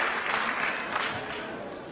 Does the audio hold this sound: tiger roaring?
no